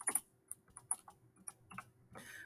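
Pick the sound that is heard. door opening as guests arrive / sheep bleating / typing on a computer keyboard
typing on a computer keyboard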